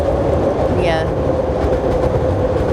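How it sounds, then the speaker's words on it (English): A passing train gives a continuous loud rumble and grinding drone from start to finish, with a brief squealing whine near the start and no clear talk over it. "Yeah, that's the train."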